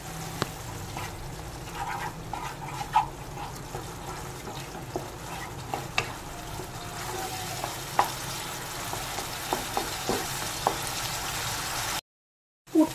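A mashed paneer filling for vegetarian stuffed pointed gourd sizzles softly in a pan while a spatula stirs and scrapes it, with faint clicks and taps over the low frying hiss, then a brief silence near the end.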